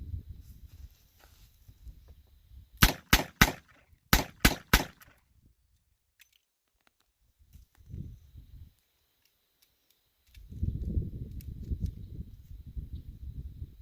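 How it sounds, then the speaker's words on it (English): A revolver fires two quick groups of three sharp shots, loud and close, followed by quieter metallic clicks and handling of a speed loader being fitted, then a low rumbling shuffle near the end. "load another speed loader in there, and then we'll fire 6 more shots to see how long it takes us to fire 12 shots."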